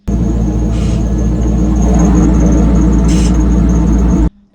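A loud, steady mechanical grinding whir with a faint squeal runs nonstop for about four seconds, then cuts off abruptly: a clutch fork grinding against a spinning pressure plate in an LS V8-swapped BMW E30.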